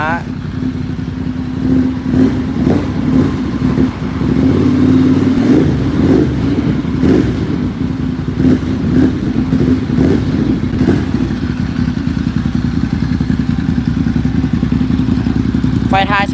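A motorcycle fitted with a genuine exhaust pipe idles and revs steadily at close range, a continuous rough engine drone with repeated throttle surges, while someone talks over it throughout.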